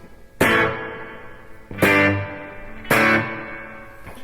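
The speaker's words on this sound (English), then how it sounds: "the other thing I've got on that is a spring reverb" Three strummed electric guitar chords through a spring reverb, each ringing out with a splashy, bright reverb tail that decays before the next strike.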